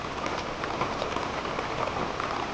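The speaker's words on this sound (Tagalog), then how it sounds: "Lumakas ang ulan." Steady, dense rain falls on an organic garden, a continuous close hiss of drops striking leaves and ground with no break or voices.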